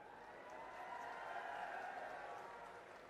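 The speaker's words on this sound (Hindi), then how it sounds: "बिना कहे तालियां बजाना" Audience at a political rally in Adampur Mandi, Haryana, applauding steadily, a broad wash of clapping and crowd noise that swells slightly midway and holds at moderate distance, with no clear speech over it.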